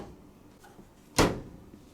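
A Maytag (Asko) MTD07SCFSC 7 kg sensor condenser dryer door opens with a single brief, fairly loud click-thump in a quiet room, with no talking.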